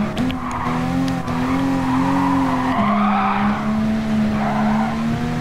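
A Jaguar car in a racing video game skids and flips over, steady loud engine drone with tonal tire squeal wavering throughout, continuous and close.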